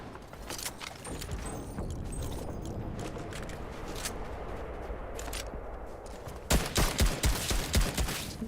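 Gunfire in a video game: rapid loud shots crackle at the start and again toward the end, with steady noise in between.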